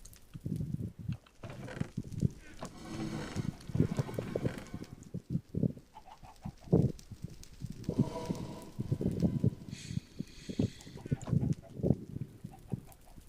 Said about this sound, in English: These chickens are laying eggs like mad lads.